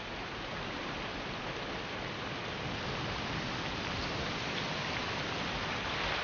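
Steady heavy rain from a storm rolling over the Hebrides, a dense unbroken hiss of downpour that holds at an even, fairly loud level throughout with no other sounds on top.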